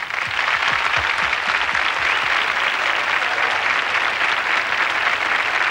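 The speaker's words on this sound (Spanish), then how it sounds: "quiero pedir un fuerte aplauso para ese gran maestro que es Tony Leblanc." Strong, sustained audience applause at a Spanish copla song gala, a dense even roar of clapping that holds at full strength from start to finish with no talking.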